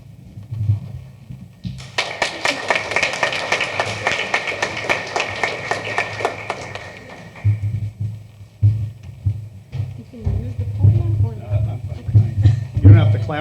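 A gala crowd at a county fair event applauds a speaker as he takes the stage, dense steady clapping for several seconds that then fades out under a voice beginning to talk.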